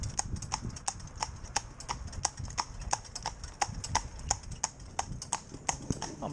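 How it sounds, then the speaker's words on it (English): A 14-year-old cob mare moves freely with a steady, even clip-clop of hooves on a hard surface, rhythmic and fairly close, and a voice talks faintly underneath. "But a nice free moving mare."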